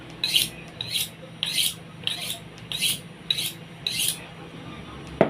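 Knife blade honed with repeated strokes along a fine honing steel, seven evenly spaced rasping swipes, close and clear with no talking.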